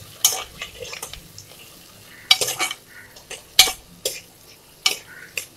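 Onions and tomatoes sautéed together in a pan for a drumstick (murungakkai) masala, with repeated sharp spoon scrapes and clinks against the pan over a low sizzle, arriving in short irregular bursts close by.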